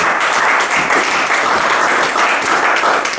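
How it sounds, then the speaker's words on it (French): Applause from a church congregation fills the room with dense, loud, continuous clapping that lasts about three seconds, with no voices heard over it. "Qui peut acclamer un peu pour la capacité?"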